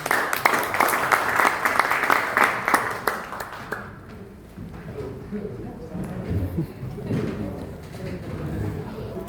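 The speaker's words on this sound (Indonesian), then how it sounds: "Kasih tepuk tangan." Audience applause at an Indonesian arts and marine conservation dialogue, a burst of many hands clapping for about four seconds, then fading as a voice begins speaking over a quieter room.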